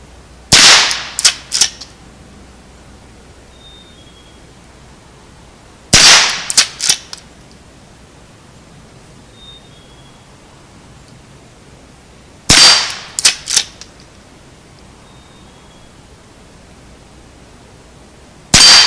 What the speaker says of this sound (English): we're going to fire it at the left side and see how it works here